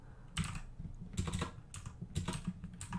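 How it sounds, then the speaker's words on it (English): Keys tapped on a computer keyboard while typing Japanese text, clattering in several quick bursts of strokes close to the microphone, with brief pauses between them and no voices. "I suck at typing"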